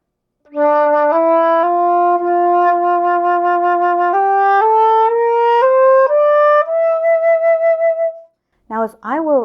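Flute played loud in the low register with a big, open tone, a slow descending-then-rising line of sustained notes, close and alone, ending with a short burst of quick ornamented notes.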